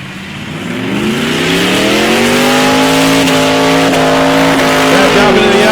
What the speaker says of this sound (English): Back up into the RPM now, tagging that limiter down the top end